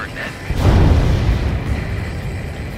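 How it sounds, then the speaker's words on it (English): A deep, rumbling boom of an underwater explosion in Ace Combat 7 swells suddenly and lingers as a heavy low roar, loud and close. "A huge explosion just went off underwater."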